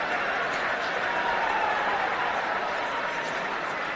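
Football crowd in a stadium during a League Cup match gives a steady wash of applause and murmuring, a broad, distant rumble of clapping with a few chuckles mixed in.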